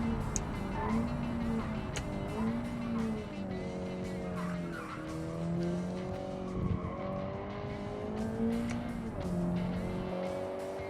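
Light sports car driven in the game Automation, its engine note rising and falling through gear changes with tyres squealing, steady and close throughout.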